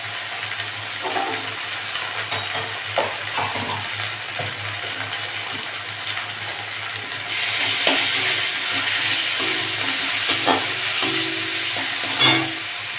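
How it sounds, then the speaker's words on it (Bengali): Onions sizzle steadily in a hot pan with occasional stirring scrapes, and the frying grows louder partway through as ginger garlic paste is added. "পেঁয়াজটা লাল লাল ভাজা হয়ে গেছে আমি আদা রসুন বাটা দিয়ে দেবো"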